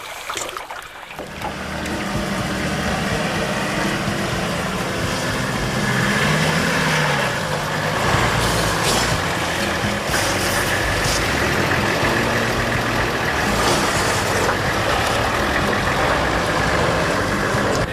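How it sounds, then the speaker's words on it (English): A car towing a caravan over one of the roughest stretches of road on Cape York, its engine rumbling steadily and loudly throughout with broadband road and rattling noise. "the car and caravan are going through some of the most difficult sections of the road on the Cape"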